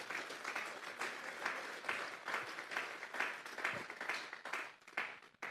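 A church congregation claps together in a dense, steady round of applause, moderately close and without talk, pulsing slightly before thinning out near the end.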